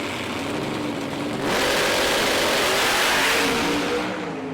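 A Pro Stock drag racing car roars loudly down the strip on a run, its engine note surging and holding at full throttle before easing off, with crowd-level ambience behind it.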